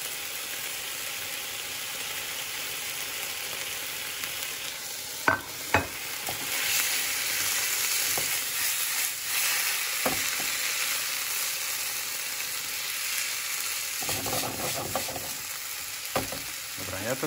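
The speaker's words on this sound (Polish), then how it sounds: "I będziemy wszystko smażyć." Steady sizzling and frying of rice and kimchi in a hot pan, with occasional scraping and stirring clicks from a utensil; no voices.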